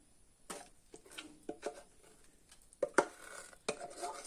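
Coconut sweet mixture being spread onto a ghee-greased plate, with scattered soft scrapes and light metallic clinks of a spoon on the plate, faint and close in a quiet room, no talk.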